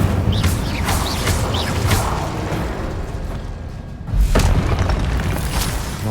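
In Hogwarts Legacy, an Incendio fire spell bursts with a deep rumbling whoosh and boom, followed by a second strong blast, amid dense battle noise.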